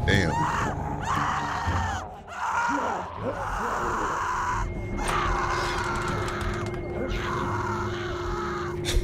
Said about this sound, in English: Doing all that damn screaming